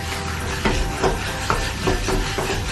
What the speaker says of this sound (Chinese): 然后再次开小火把调料搅拌均匀，搅拌一分钟左右